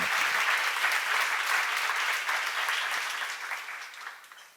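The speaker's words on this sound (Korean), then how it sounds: "박수로 하세요." Sustained applause from a seminar audience during a church Bible lecture, dense steady clapping throughout that tapers slightly toward the end, with no speech over it.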